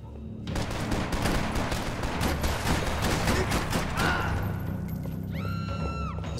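Dense rapid gunfire in the Max Payne 3 video game, a sustained loud burst of shots and impacts that cuts off and is followed by a fainter game tone.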